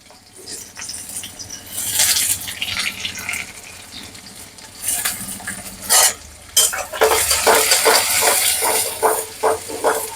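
Chopped onions fry in a pan for dhaba-style chole, with steady sizzling, scraping stirs and clinks of a spoon against the pan, growing louder and busier toward the end.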